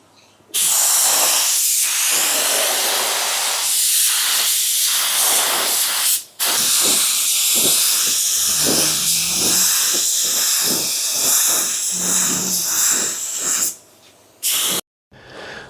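A spray gun hisses steadily as it lays clear coat onto a car, loud and close in long continuous passes with brief breaks, ending in a few short bursts.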